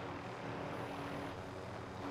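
A distant video game helicopter's rotor drone hums steadily and faintly throughout, with a flat engine tone and no clear voices.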